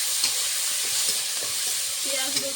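Chopped onion, garlic and green chili frying together in a pan, an even, steady sizzle and hiss with faint stirring scrapes, close and moderately quiet throughout.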